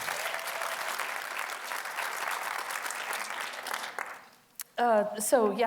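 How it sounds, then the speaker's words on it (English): Audience applause for a speaker at a Motus Theater event, a broad, steady wash of clapping that fills the room for about four seconds before fading out, followed by a person starting to talk. "Please give her a big round of applause."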